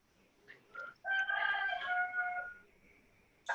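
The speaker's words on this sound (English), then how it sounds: "That was Ashley's chicken." A rooster crows once, fairly far off and faint, its drawn-out cock-a-doodle-doo rising and falling over about a second and a half, preceded by a couple of short clucks.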